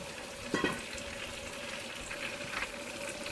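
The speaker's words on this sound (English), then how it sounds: "I'm going to add my green beans and just start sauteing those up" Green beans sauté in oil and butter in a pan, a low steady sizzle with a couple of brief clattering stirs, close and fairly faint, with no speech.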